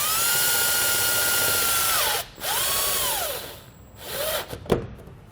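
A power drill drives screws into a trailer to secure a light mount, with a loud, close, sustained whine that dips and briefly stops, then a few shorter revving bursts.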